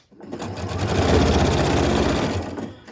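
A sewing machine stitches quilt block rectangles in one continuous close run of rapid, even needle clatter that starts and stops cleanly over about three seconds.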